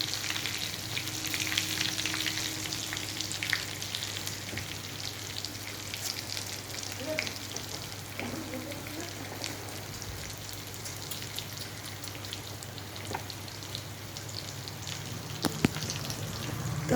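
Soybean balls fry in a pan with a steady, close crackling sizzle that runs the whole way through, broken by a few sharp pops and faint stirring.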